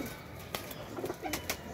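Pigeons sitting in a loft give soft, low coos, with a few sharper flutters or taps mixed in. The sounds are close but faint, and nobody speaks.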